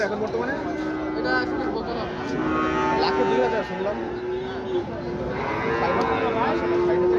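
Cattle low in long, drawn-out moos, one after another, amid the murmur and bustle of a crowded cattle market before Eid al-Adha.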